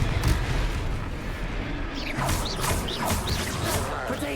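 The Confringo fire blast spell from the Hogwarts Legacy game bursts out in a loud, rumbling explosion with crackling debris, set in a dense, noisy duel.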